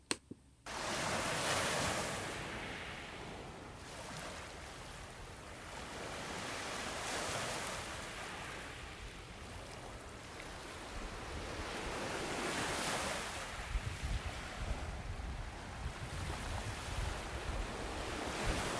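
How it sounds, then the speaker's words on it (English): Ocean waves roll onto a beach at sunset, a steady wash of surf rising and falling in slow swells, mixed with gusty wind buffeting the microphone. "to hear the waves and take in a few moments of the actual beach vibe while we watch sunset"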